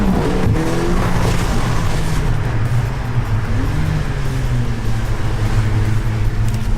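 Mercedes-AMG CLA 45 4MATIC Shooting Brake, 381 hp, accelerating through town, its engine a loud sustained rumble with rising and shifting tones heard from close by for several seconds.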